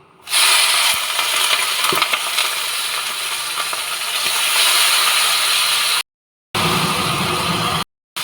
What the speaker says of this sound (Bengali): তেলটা গরম হয়ে গেছে এবার মাছগুলোকে দিয়ে দেবো